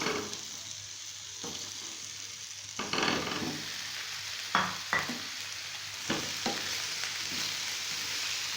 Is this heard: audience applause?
no